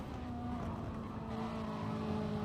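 Ferrari 458 race car in a racing sim, engine droning steadily at a sustained pitch as it slides out of a corner on worn tyres, continuous and close with a faint hiss of tyre scrub.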